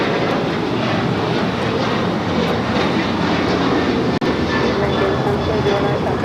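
A retro-livery American Airlines Boeing 737-800 jet at LAX, bound for Nashville, gives a steady loud engine roar through the whole stretch, with one brief sharp click near the end.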